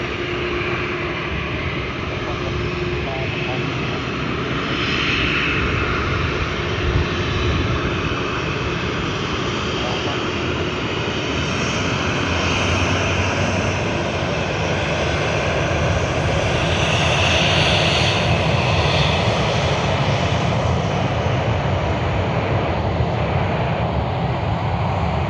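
A Qantas airliner in its 100-year anniversary livery at Sydney Airport makes a loud, continuous engine roar that holds steady and swells slightly toward the end, with no voices.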